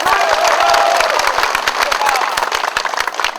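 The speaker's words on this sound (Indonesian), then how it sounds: "Tepuk tangan untuk Banda." Crowd in Banda applauding and cheering during an official DPD RI visit, loud close clapping with shouts and whoops layered over it, a few voices carrying above the steady applause.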